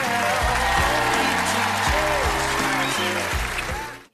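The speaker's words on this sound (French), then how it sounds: "Et un tonnerre d'applaudissements pour Lévonne." Loud, dense applause from a TV talent show audience at The Voice Kids, sustained clapping for about four seconds before quickly cutting off, with music faintly underneath.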